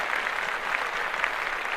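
Steady applause from a group of people fills the moment, a dense, even wash of clapping with no pauses.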